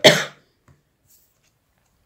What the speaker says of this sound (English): I was hoping I wouldn't be coughing so much in this reading.